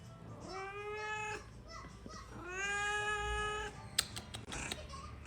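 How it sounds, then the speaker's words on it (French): A female house cat meows twice in drawn-out, whiny calls close to the microphone, followed by a few small clicks and rustles. "C'est ton chat? Oui, c'est mon chat."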